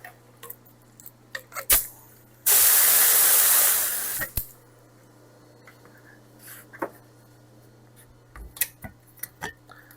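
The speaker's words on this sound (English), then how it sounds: "I'm going to take and spray a little bit through the gun." An M.L. Campbell lacquer spray gun gives one steady, loud hiss of about two seconds, close by, set among quiet clicks and small handling noises before and after.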